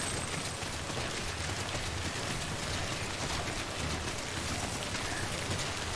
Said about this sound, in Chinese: 所以现在是全部地方都在下雨。